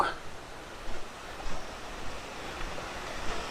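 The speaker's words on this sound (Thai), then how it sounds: "และนี่ก็คือน้ำตก" Continuous broadband rushing of a forest waterfall beside a wide rock shelf, a steady hiss with slight surges, heard from nearby.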